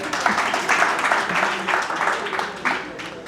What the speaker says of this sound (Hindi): तो यदि आपको पसंद आया हो तो एक बार ताली तो हो जाए